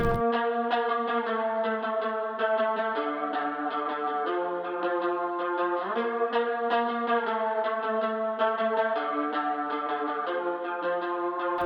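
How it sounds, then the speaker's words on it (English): A clean, processed guitar plays a plucked melodic line with echoing notes, steady and moderately loud, with no voices. "So I just went ahead and grabbed my guitar,"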